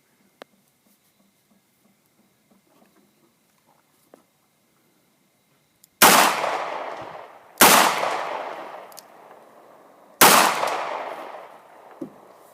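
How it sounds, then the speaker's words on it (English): A double action revolver fires three sharp, loud shots a couple of seconds apart, each crack trailing off in a short decaying echo after a quiet stretch with faint handling clicks. "I am going to pull the trigger back both times on both shots."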